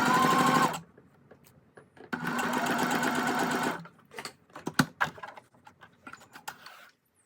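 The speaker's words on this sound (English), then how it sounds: "I sewed the two side parts, but I left a little gap at the very top" A sewing machine stitches fabric side seams in two loud, close bursts of fast, even whirring, followed by scattered clicks and clacks of fabric handling and machine parts, with no talking.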